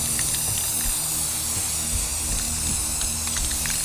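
Close, steady hiss of a spray can coating a wood stove heater with rust-protective paint, continuous and loud throughout with faint clicks beneath.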